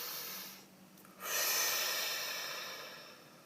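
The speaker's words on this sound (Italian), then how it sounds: "facciamo un bel respiro profondo" One deep breath is drawn in and slowly let out, close and clear, and it gradually fades with no speech over it.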